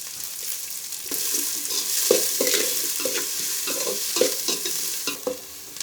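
Three large finely chopped onions browning in a pan, a continuous crackling sizzle broken by frequent scraping stirs of a spatula, near and unaccompanied by speech.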